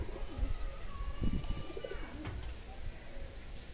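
Fancy satin pigeons, including black lace satins, coo in a loft, with low soft coos rising and falling near the microphone amid faint background noise and no speech.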